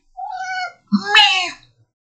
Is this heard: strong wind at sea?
no